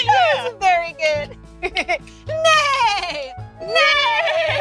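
A young child imitates a horse neigh with a high, wavering whinny, repeated in several loud, close bursts and broken by short pauses.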